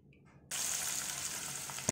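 Ridge gourd curry with onions, tomatoes and green chilies cooks in a pan, a steady close sizzle of frying that starts abruptly and continues without a break, with no talk.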